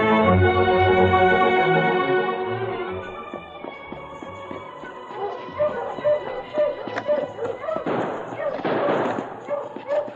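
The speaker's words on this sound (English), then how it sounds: "Sergeant Preston heard the shooting in the woods to the right of the trail" Radio-drama sound effect of gunshots in the woods beside a trail: a sustained musical tone gives way to a rapid, irregular burst of sharp cracks and bangs, loud and close, ending in a dense crackling flurry.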